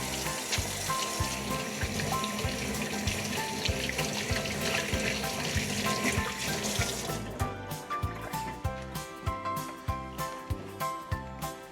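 A kitchen tap runs steadily while hands are washed before cooking a bean soup, then the flow stops and rhythmic splashy rubbing follows, close and fairly loud, with no talking.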